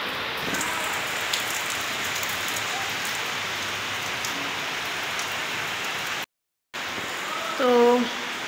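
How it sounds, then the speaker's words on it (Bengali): Steady rain falls on outdoor surfaces as a soft, even hiss of drops, broken by a brief silent gap and followed by a short voiced sound near the end. "বৃষ্টি হচ্ছে।"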